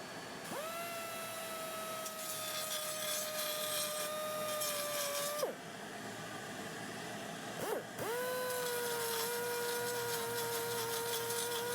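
A grinder works on the bumps of exhaust headers for a Ford Ranger 2.9L V6 Cologne engine, with a steady high whine running close and loud, briefly dropping out twice before resuming.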